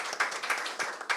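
An audience at a panel discussion on the Reformation and the laity claps for a speaker being introduced, a short, moderately loud burst of applause.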